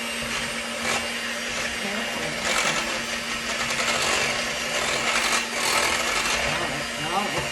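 An electric mixer whirs through dog biscuit dough with bacon, a steady motorised whine that rises and dips in pitch over several seconds while people talk nearby.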